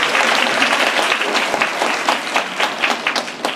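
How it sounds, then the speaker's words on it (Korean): A large audience at a school admissions information session applauds loudly after a graduates' talk, a dense, continuous wash of many hands clapping at once, close and full for the whole stretch. "다시 한번 큰 박수 부탁드릴게요"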